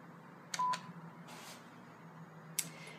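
Keys pressed on an NEC XEN DTU office phone handset give a few short, faint dialing beeps: two close together, then one more after a pause, over a quiet hum.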